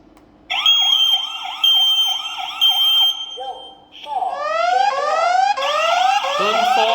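An Ados W21 smoke detector's fire alarm sounds loudly and close, with a repeating warbling tone that shifts into rapid rising sweeps like a siren.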